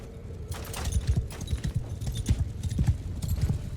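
Cavalry horses galloping in the video game Mount & Blade II Bannerlord, a rapid, uneven drumming of many hooves rising and falling, fairly close, with occasional faint battle noise over it.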